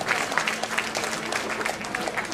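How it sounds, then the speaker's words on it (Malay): Audience applause at an evening Mek Mulung traditional performance in Kedah, welcoming the invited guests: dense, steady clapping from a crowd that fills the whole moment at a moderate level. "Bagilah tepukan sikit pada tetamu kita pada malam ini."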